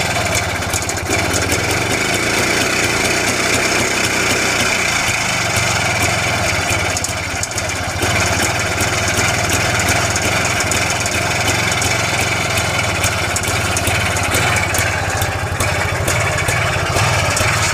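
1967 BSA D7 Silver Bantam two-stroke motorcycle engine idling cold after starting, a steady close buzzing putter that runs unbroken throughout.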